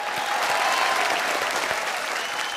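An audience applauding Shweta Pandit on a game show, a dense, steady burst of clapping for a couple of seconds with faint crowd murmur.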